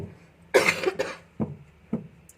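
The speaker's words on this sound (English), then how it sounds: "excuse me if I'm coughing because I've had a flu lately" A few separate coughs from a person with flu, close and fairly loud: one harsh burst followed by several shorter, quieter coughs spaced apart.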